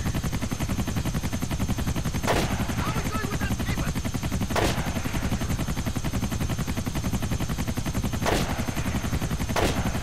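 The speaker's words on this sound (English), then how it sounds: "you think it's easy sniping from a helicopter?" A continuous helicopter rotor chop throbs throughout, with several sharp gunshots cracking at irregular intervals over it, from the video game Grand Theft Auto IV: The Ballad of Gay Tony.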